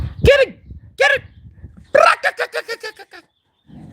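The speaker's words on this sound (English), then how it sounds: "that red brindle dog right there, that's Ruby" Ruby, a red brindle dog, barks loudly and close by: two separate barks, then a quick run of rising yips and barks that trails off, with a faint low noise after.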